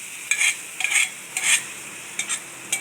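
Green moong dal is stirred into onion masala frying in a pan, giving close, rhythmic scraping strokes over a soft steady sizzle, five or six sweeps with short pauses, no voices.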